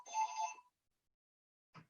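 A telephone rings indoors: one clear electronic ring, a stretch of silence, then the first burst of the next ring at the very end.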